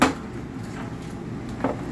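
A wooden drawer in an RV bunkhouse trailer slides and knocks, with a soft thump at the start and another near the end, close by in a quiet room.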